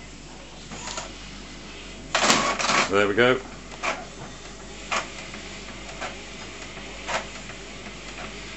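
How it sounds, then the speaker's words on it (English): An Epson BX300F inkjet printer fitted with a continuous ink supply system starts up and prints, giving a burst of mechanical whirring and clicking, then a series of spaced, repeated clicks and thumps as it runs. A person speaks briefly near the start. "So the printer should start up any second."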